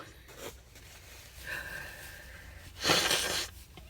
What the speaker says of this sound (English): I'm just blowing my nose.